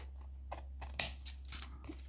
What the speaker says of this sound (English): So here are my scissors. I will cut it